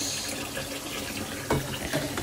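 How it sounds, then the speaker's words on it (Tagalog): Tap water runs steadily into a sink or container while suman, a Filipino rice cake, is being prepared, a continuous close splashing hiss with a couple of brief clatters near the end. "Kaya lagyan natin ng tubig"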